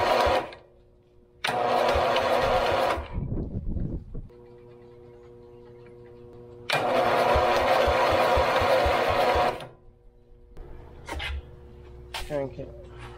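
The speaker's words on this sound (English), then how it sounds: "So we're going to try to start this thing." An old lawn mower engine running on two-stroke fuel cranks and catches in two loud bursts of a few seconds each, with sputtering between attempts and quiet gaps. Wind noise is present.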